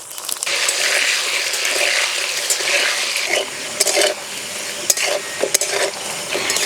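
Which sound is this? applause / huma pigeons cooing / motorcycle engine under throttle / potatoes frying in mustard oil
potatoes frying in mustard oil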